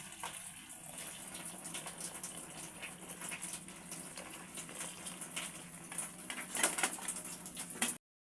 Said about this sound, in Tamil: இப்போ நம்ம அதை வடிச்சு எடுத்துக்குவோம்.